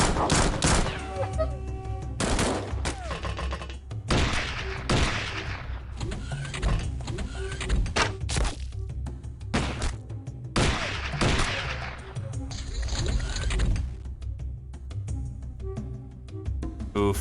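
Mortar blasts and bursts of gunfire ring out in the turn-based strategy game Xpiratez, with repeated sharp loud shots and explosions at irregular intervals, some in quick clusters.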